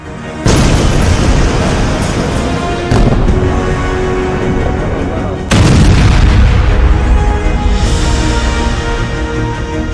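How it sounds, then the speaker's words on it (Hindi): A powerful explosion from an Israeli military strike in Beirut booms loudly, followed by a second heavy blast a few seconds later and a third around the middle, each leaving a long dense rumble of debris and roar. "जबरदस्त धमाके के बाद बारूद और धूल का गुबार 200 फीट तक पहुंच गया।"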